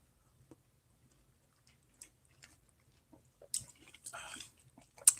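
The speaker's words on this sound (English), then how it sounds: "Can you hear my chewing on the feed?" Someone chews clementine segments close to a microphone, with sparse soft wet clicks and squishes that grow denser and juicier toward the end, quiet and with no talk.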